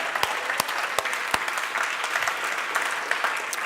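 Church congregation applauding during worship, a dense crackle of many hands with a few loud nearby claps standing out, steady for a few seconds without speech.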